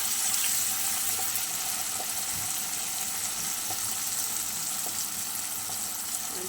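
Small splash of water poured into a pan of fish frying in oil, giving a steady loud hiss and bubbling sizzle that fills the whole stretch without pause.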